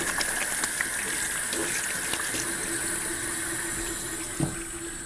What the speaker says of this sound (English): I'm going to get this water going so I can get my hands washed